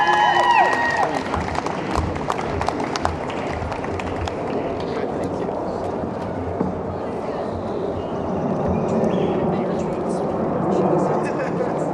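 An audience at a 2016 communication graduation ceremony gives sustained applause for the Masters graduates, a steady dense wash of clapping in a large hall with faint cheering, and a voice briefly audible early on.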